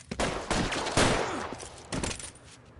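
Rapid gunfire in the video game L.A. Noire, a loud close burst of several overlapping shots in quick succession with echoing tails.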